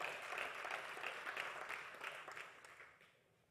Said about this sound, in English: Now let's give her a real applause.